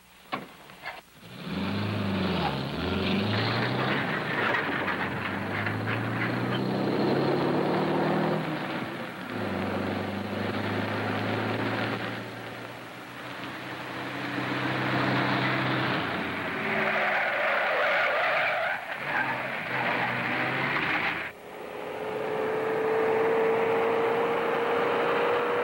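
A stock car roars past with a sustained engine drone and a tire skid, its pitch sweeping as it moves, loud and close throughout with a brief dip near the end.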